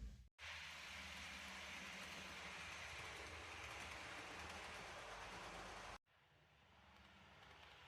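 Hornby South West Trains 4VEP model train runs around a loft layout, a steady, close rolling whir and rattle broken by two sharp cuts, then quieter running.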